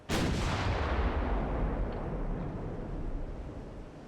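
A heavy naval gun salvo fires at a battleship in the Ultimate Admiral Dreadnoughts game, one sudden loud boom rolling into a long rumbling decay that fades over several seconds.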